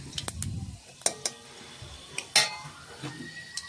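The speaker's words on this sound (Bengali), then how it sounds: "একটু এইভাবে খুরপিটা দিয়ে নাড়িয়ে একটু ভেজে নিচ্ছি" A spatula scrapes and clinks against a frying pan while vegetables and spices are stirred and fried for a drumstick flower curry, with scattered metallic taps over a soft sizzle.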